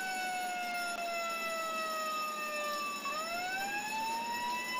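Ambulance siren in the Roblox game ERLC, a continuous electronic wail that slowly falls in pitch, dips around three seconds, then rises again, loud and alone over faint background.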